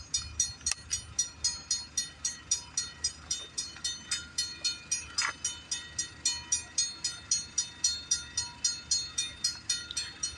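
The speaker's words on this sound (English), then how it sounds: "we got a CP eastbound train coming down the line" A CP eastbound freight train rolls past Bronte Street late at night, its wheels beating a steady, regular clickety-clack over the rail joints, with sharp metallic ringing above a low rumble. No one speaks.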